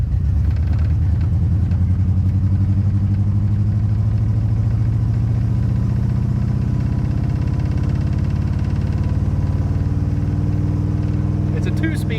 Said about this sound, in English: we're about to go for our first test drive since 1989